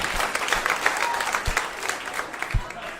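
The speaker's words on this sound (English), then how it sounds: "Clap if you got somebody in your family that gets on your last nerve" Comedy club audience clapping in response to a comedian, a dense steady patter of applause with a few louder thumps, heard at moderate distance throughout.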